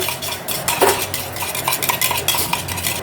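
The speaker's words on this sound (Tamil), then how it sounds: "அவள் தான் முட்டையை வந்து அடிச்சுட்டு இருக்கா" Eggs being beaten in a bowl with a spoon for a spoon omelette, a steady rapid clinking and scraping of metal against the bowl with no talk.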